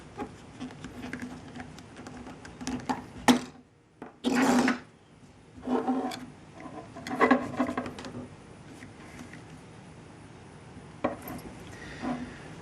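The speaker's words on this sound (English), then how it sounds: "we'll take a utility knife and trim it up" A utility knife cuts and trims a homemade flexible camera mount for a GoPro, giving a few short rasping, scraping strokes in separate close bursts amid quiet handling noise.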